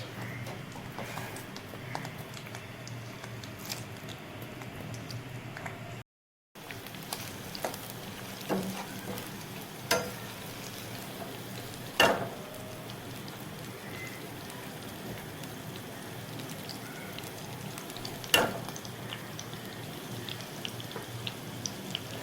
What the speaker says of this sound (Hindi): घी गर्म हो गया है और अब मैं इसमें ऐड करती हूँ प्याज